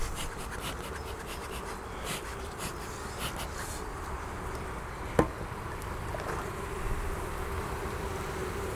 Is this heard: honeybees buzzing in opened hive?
yes